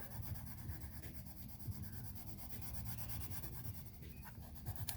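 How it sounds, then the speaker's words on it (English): A pencil shades on paper, producing a soft, steady scratchy rubbing up close that continues without pause and stays faint and even throughout. "I'm going to go into the white of her eye and kind of shade this out a little bit."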